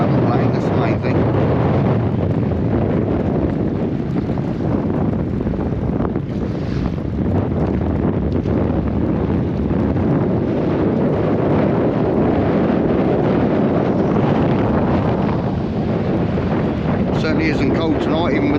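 Strong wind buffeting a microphone on a fishing pier at Town Quay, Southampton, on a mild evening, a constant loud roaring rush with water lapping below and someone speaking now and then.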